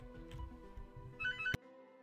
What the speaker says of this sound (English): And my phone's ringing.